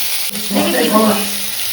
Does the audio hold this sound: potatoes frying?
yes